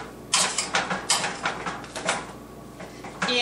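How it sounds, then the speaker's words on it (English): Cooked potatoes with butter are mashed by hand in a bowl, giving a rhythmic series of soft, squishy, scraping strokes about three per second, close and moderately loud, with no talking. "and then just mash it some more"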